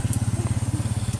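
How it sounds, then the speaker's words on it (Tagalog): A motorcycle engine idles close by with a fast, regular low thumping pulse, steady and moderately loud for a brief moment. "May motor doon."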